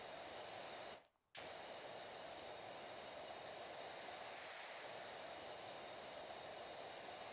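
A pressure washer sprays steadily in PowerWash Simulator, a loud continuous broadband hiss with one brief pause near the start before it resumes and runs on without talk.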